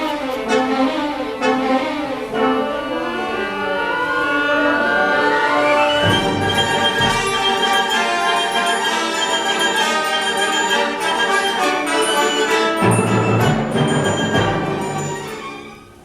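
Orchestral passage from the Danse Macabre tone poem, with violin and flutes weaving busy, swirling lines and sustained tones, building to a dense, lively full-ensemble swell at steady loudness without any talking.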